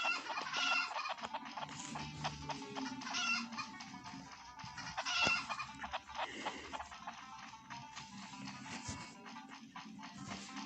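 Chickens in a video game cluck busily in a continuous chatter, with occasional sharper squawks, fairly close and steady throughout without any talking.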